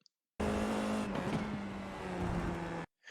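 An FIA F4 race car drives through corners at the Rudskogen circuit, its engine loud and close with a steady high drone, shifting pitch as it brakes and accelerates between turns, then abruptly cut off.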